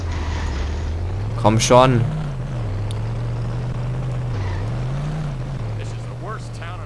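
Car engine in The Simpsons: Hit & Run revving and surging as the car accelerates, a steady drone rising and dipping throughout with a short burst of talk near the start.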